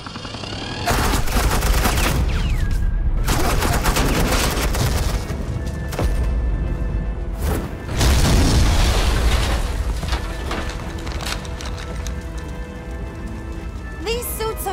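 Suppressing gunfire in the video game Batman: The Enemy Within, dense rattling bursts with heavy impacts filling most of the span, broken by short pauses.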